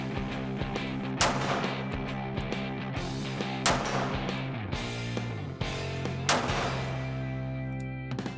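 Shots from a short-barrelled CZ 75 variant pistol fired at a range, with three sharp loud reports spaced a few seconds apart over a steady background hum.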